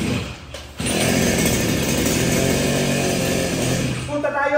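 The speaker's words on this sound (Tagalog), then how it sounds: "Ito po yung inyong Kawasaki TD40." A Kawasaki TD40 four-stroke heavy-duty grass cutter engine runs close and loud, starting after a brief dip and holding a steady buzzing drone, with someone speaking over it.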